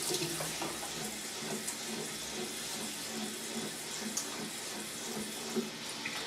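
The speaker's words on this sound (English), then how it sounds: "give your head a little bit of a rinse" Tap water running steadily in a sink while a shaved head is rinsed, a close, constant hiss and splash with no talking over it.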